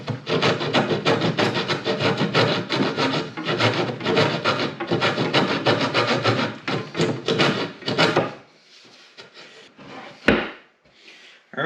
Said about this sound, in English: Now I'm just going to take this saw.